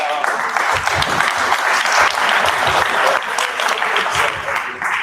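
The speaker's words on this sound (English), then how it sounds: "Round of applause." Audience applause at a conference, dense sustained clapping filling the room for about five seconds, with a few voices faintly mixed in.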